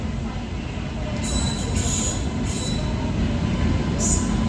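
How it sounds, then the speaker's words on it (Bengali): Uttar Banga Express train hauled by a WAP-7 electric engine rolls into NJP station, a loud continuous rumble with high metallic wheel squeals breaking in several times. "এনজিপি স্টেশনে ঢুকে যাচ্ছে আমাদের উত্তরবঙ্গ এক্সপ্রেস ট্রেন আর ইঞ্জিন রয়েছে ডাব্লু এপি সেভেন"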